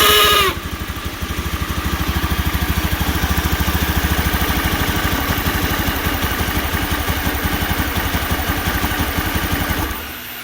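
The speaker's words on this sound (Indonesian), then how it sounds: "Permasalahannya di sini motor tidak mau stasioner, kata si pemilik motor." A Honda Scoopy injection motorcycle engine with an idle fault starts up and runs loud and close, its rapid pulsing firing note unsteady and uneven for about ten seconds before cutting off.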